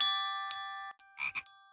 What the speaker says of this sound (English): George has found some very musical frogs.